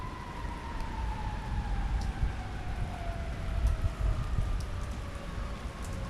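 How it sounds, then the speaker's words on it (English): Rain falls steadily in a dense, hissing patter while a distant emergency siren slowly glides underneath, faint and far off, with no one speaking. "Check out that rain, huh?"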